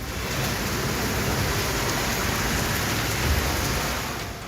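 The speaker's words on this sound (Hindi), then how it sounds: "राजस्थान के कई जिलों में कल तेज हवा के साथ जोरदार बारिश ने लोगों की मुसीबत बढ़ा दी।" Heavy rain lashes down in strong wind during a storm in Rajasthan, a dense, steady roar of downpour that holds at full loudness throughout with no voices.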